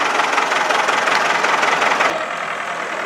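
A tractor engine, either a Ford 6610 or a John Deere 7210, runs loud and close with a steady rough drone on a winter food plot, then drops slightly in intensity near the end.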